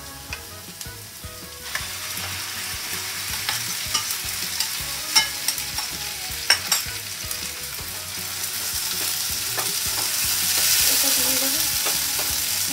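Coriander-mint leaf paste and black pepper frying in a pan for hariyali kebab rolls, with a continuous close sizzle and regular spatula scrapes and taps as the mixture is stirred.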